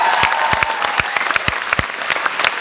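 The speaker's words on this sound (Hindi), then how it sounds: "उनके लिए जोरदार तालियां होना चाहिए।" Audience applause at a business recognition and training event, steady clapping from a crowd with sharp individual claps standing out close by, continuing throughout.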